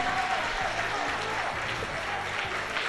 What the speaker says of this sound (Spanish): fuertes aplausos por favor, todos, fuertes aplausos para nuestros hermanos.